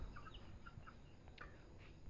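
Faint clucks and short calls from free-ranging chickens scattered over a steady low background hum, with no voices.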